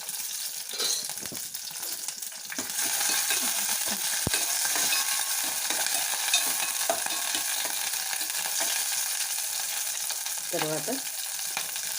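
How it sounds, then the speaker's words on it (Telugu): Onions and green chillies frying in hot oil in a pot on a stove: a steady, crackling sizzle that swells after a quieter start and holds throughout, with a few light clinks and a brief spoken word near the end. "ఆయిల్ వేసుకుని ఉల్లిపాయ వేసుకుని పచ్చిమిరపకాయలు వేసుకొని ఫ్రై చేసుకోవాలి."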